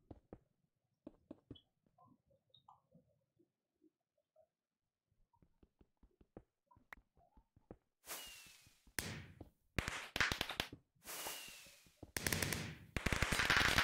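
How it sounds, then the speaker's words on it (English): Fireworks going off in the Minecraft GregTech New Horizons modpack: a quiet stretch of small clicks and game sounds, then a run of loud, crackling bursts and whooshes arriving one after another in quick succession. "all the fireworks going off here"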